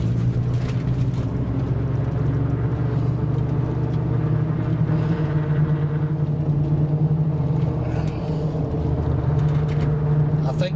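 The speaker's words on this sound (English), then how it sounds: "It's been sitting there idling the whole entire time." A 2004 Ford F-150 pickup truck engine, warmed up, idles with a deep, steady rumble throughout, close by and unchanging, while a person talks faintly over it.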